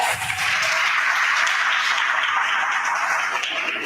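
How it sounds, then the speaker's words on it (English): Audience applause at a research day event, a steady, dense wash of many hands clapping that holds evenly throughout without talk. "let's have a round of applause for him"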